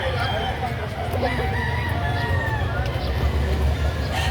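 A rooster crows amid a noisy background of people talking and general crowd babble.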